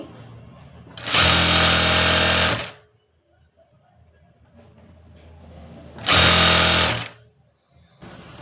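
A sewing machine stitches a straight seam with a half-inch margin on a blouse lining: two loud, steady whirring runs, the first longer, separated by a quiet pause, close up with no talking.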